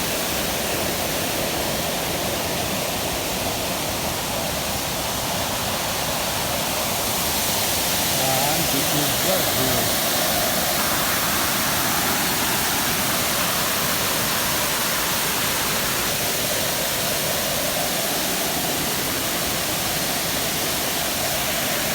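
The Sanghagra waterfall in Telkoi wildlife sanctuary, Keonjhar district, Odisha, roars and splashes in a dense, unbroken wash of falling water. It stays loud and close throughout, with faint voices barely rising above it.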